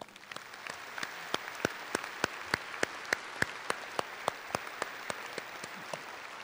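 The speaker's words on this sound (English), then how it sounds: "Please join me in giving them a much-deserved round of applause." A high school graduation crowd applauds in a large hall, a continuous wash of clapping with several sharp, close, evenly spaced claps standing out above it, sustained for several seconds.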